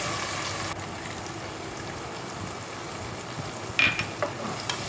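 Tomato paste masala sizzles in a pan, a steady hiss with a few scraping stirs of a spatula near the end, close up with no voices.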